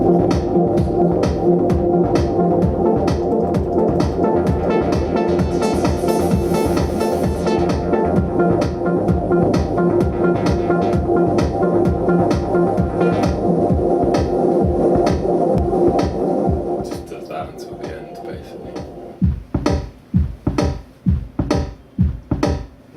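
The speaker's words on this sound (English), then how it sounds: "There's that and the reverb part, just sidechain to the bass drum again." A dense, reverb-soaked synth pad sidechained to the bass drum pumps rhythmically in time with the kick, then thins out into separate pulsing hits near the end.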